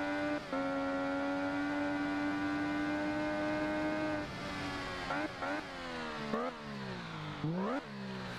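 An MV Agusta Rivale 800 three-cylinder motorcycle engine in a PS4 racing game holds a steady high drone, then revs rise and fall through several quick gear changes, loud and close with no talk.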